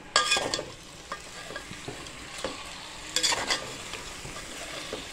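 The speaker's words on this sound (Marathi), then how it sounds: "तर हे मटण पण आपल्याला परतून घ्यायचे" Mutton sautéed in a spicy masala for mutton sukka, a soft ongoing sizzle with occasional scraping strokes of a spatula against the pan and a few louder clattering stirs.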